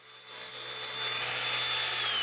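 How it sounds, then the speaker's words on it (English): A Dewalt DCG405N cordless angle grinder fitted with a grinding disc spins at about 9,000 RPM, giving a steady, loud, high hiss and whine that grows slightly as it works against the surface. "I changed the cutting disc for a grinding disc, which, although won't put as much stress on the motor as cutting, still pulls plenty of juice from the battery"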